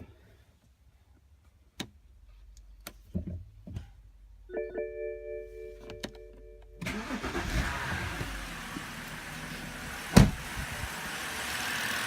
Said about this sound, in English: we're going to start the car and we're going to run it to see